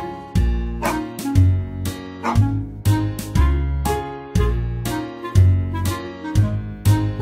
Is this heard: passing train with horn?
no